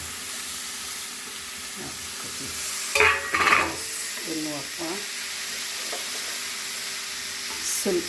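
Ridge gourd sabzi fries in a pan, a low steady sizzle broken by a few louder scraping stirs of a spoon near the middle and again at the end, with a person talking over it.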